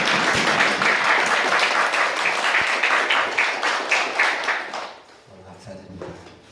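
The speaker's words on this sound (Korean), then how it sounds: "큰 박수로 한번" A church congregation applauds warmly for a deacon back at worship after surgery. Dense, loud clapping carries on for about five seconds, then fades out quickly as quieter sounds of the room take over.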